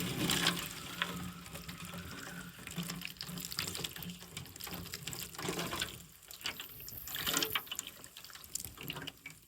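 Water pours steadily onto dry coco coir being soaked for seed sprouting, a continuous close splashing and trickling wash with slight dripping, loud and alone with no voices.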